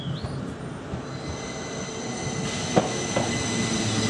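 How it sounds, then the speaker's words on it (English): A Northern Trains service pulling in on a West Yorkshire line, with a steady rail rumble, a high wheel squeal and a couple of sharp clanks from the wagons. "Northern Trains, the rival of my train, sneaked up on me slightly."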